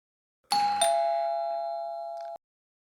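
A wired doorbell chime, sounded by pressing its push-button, gives a clean two-note ding-dong: two bright strikes in quick succession whose tones ring on for about two seconds before stopping abruptly, heard alone in silence.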